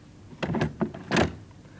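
A door opening close by: a couple of latch clicks, then a heavier clunk as it swings, in otherwise quiet surroundings.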